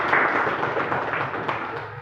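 Classroom students clap their hands together in a short burst of dense, close applause that keeps an even level for about two seconds without anyone speaking.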